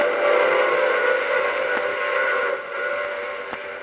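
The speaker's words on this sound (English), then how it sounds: "I take this same train every week at this same time." A steam train whistle sounds as a radio drama sound effect, a loud steady blast held for nearly four seconds with train noise underneath and no voices.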